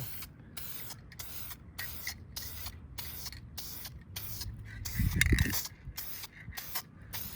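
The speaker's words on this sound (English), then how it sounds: "I'm gonna go ahead and spray the second coat on there." Short, hissing bursts from a spray paint can applying a second coat on a 2017 Nissan Maxima emblem outdoors in wind repeat in a steady rhythm, fairly faint, with a brief low thump partway through.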